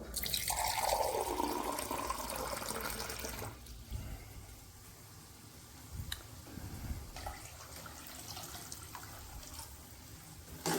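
Running water gushes for a few seconds as a glass of water is poured into a pot of pulao, then fades into quieter drips and faint clinks nearby.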